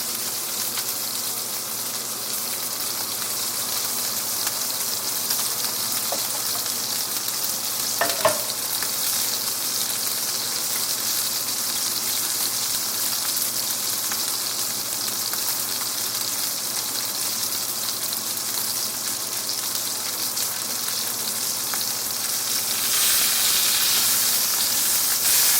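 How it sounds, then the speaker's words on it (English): Baseball steak searing in a hot pan, a loud continuous close sizzle and hiss that holds for the whole stretch, with one brief knock partway through and no speech. "We're not gonna sear this for too long."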